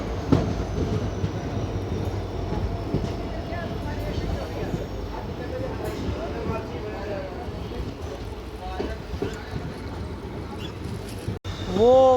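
A passenger train pulls out of Kotkapura station on the Bathinda–Firozpur line, its wagons rumbling and clattering steadily as it rolls along, with a brief sharp knock near the end.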